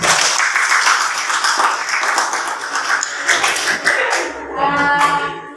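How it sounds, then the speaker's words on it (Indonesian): A classroom group of teachers and students clapping hands together in a loud, dense burst that thins into scattered claps toward the end. "Tepuk tangan"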